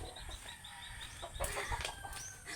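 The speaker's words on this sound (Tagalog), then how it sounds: "manin mga manok diri guys pagka kuan kining putak." Chickens cluck and squawk close by in an outdoor yard, a busy run of short calls, sharper bursts, with no talk over them.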